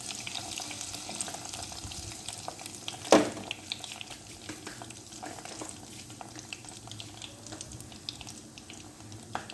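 Cheese-filled pastry cigars fry in oil in a pan with a continuous crackling sizzle, and a single louder knock sounds near the start.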